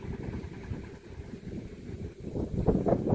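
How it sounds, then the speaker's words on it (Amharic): Strong wind buffeting a phone microphone outdoors, a continuous low rumbling roar that surges louder toward the end, with no voices. "ንፋሱ ስልኬን ራሱ ሊያስጥለኝ ነው የእውነት"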